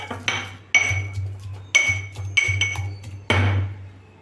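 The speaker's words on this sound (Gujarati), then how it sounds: "સારી રીતે ચટણીને મિક્સ કરી લઈશું" Metal spoon scraping and knocking inside a bowl as garlic chutney is stirred with a little water, a series of close, distinct clinks and scrapes spaced about half a second apart, with no talking.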